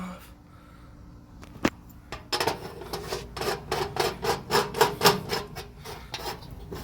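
A fuel cell filler neck cap on an SN95 Mustang 4.6 2V being unscrewed, a run of close, quick rubbing clicks and scrapes after a single sharp knock, with faint background noise.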